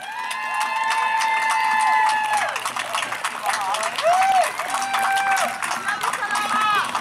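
An audience claps and cheers at a political rally and music event, a steady broadband wash of applause. Sustained whistled or sung tones ride over it, along with whoops, at a fairly loud level throughout.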